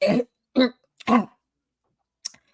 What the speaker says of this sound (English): He's clearing his throat.